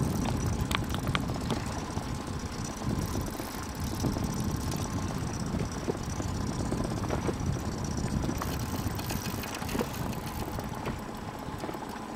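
An outboard motor on a small fishing boat runs steadily while trolling for grass carp, a continuous close mechanical drone with a low knocking pulse and no speech.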